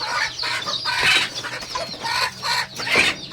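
Chickens and chicks clucking in a village coop, several close, loud bursts of clucking and squawks in an uneven rhythm with some wing flapping.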